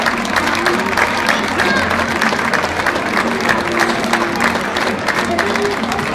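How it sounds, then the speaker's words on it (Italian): A large audience at an outdoor historical pageant with living chess and flag-wavers claps steadily and loudly throughout, dense and continuous with a few faint cheers mixed in. "Gli sbandieratori, anche loro un applauso, Alberto, Leonardo, Elia, Francesco, Andrea,"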